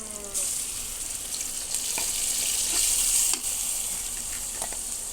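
Chopped ginger sizzles in hot oil in a pan, frying as the base for a Bengali fish curry. The hiss is steady and close, with faint stirring clinks and no talking.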